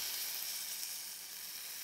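Boiling water poured from a temperature-holding kettle into a hot pan for a side dish to go with pork chops, giving a steady, close, even sizzle and hiss that holds without a break and with no voices.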